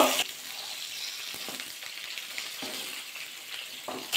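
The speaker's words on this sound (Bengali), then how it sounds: "বেগুনগুলো একটু ভাজা করে নেব।" Eggplant pieces fry in a kadai of hot salted oil, giving a continuous loud sizzle with stirring scrapes and brief bursts of crackle.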